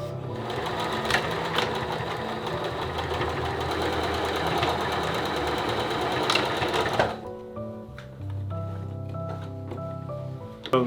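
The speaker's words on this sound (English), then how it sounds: "Back up and sew this one side shut." A sewing machine runs steadily and loudly up close, stitching the side of a flannel fabric face mask shut, then stops abruptly and leaves softer mechanical sounds and a murmur of talk.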